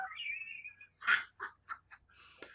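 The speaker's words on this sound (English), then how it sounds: "A geese squadron." A few geese calling in the open countryside in early spring, a series of short honking calls separated by gaps, fairly faint and distant over quiet background.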